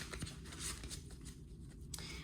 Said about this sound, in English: So let me shuffle the deck first.